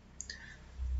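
A computer mouse clicks the Next button in a software installer on Windows, giving two quick, crisp clicks close together, followed by a low hum as the setup begins.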